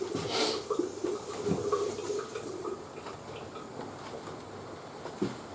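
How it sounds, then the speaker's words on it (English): Water flowing through newly plumbed workshop pipes after the supply is switched on, a steady low rush with faint ticks and drips scattered through it, fairly close and moderate in level. "Turn the water on. Okay. And run the water through."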